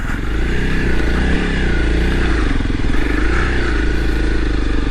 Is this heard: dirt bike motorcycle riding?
yes